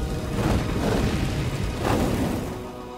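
Firebending effect from an Avatar: The Rise of Kyoshi visual novel, two heavy booming bursts of flame, each swelling and fading over a second or so, loud and close with no voice present.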